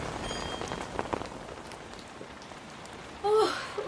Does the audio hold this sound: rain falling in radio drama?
yes